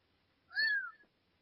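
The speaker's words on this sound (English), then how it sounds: "That wasn't a whistle, that was a cat." A single clear cat meow, short and rising then falling, standing alone against near silence.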